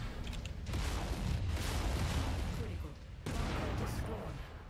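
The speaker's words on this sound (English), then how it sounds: "Shoot you in the face!" Heavy weapon fire from a Cataphract mech during an assassination mission in the MechWarrior 5 closed beta, with dense booming volleys running almost continuously at a steady level and a short lull near the end.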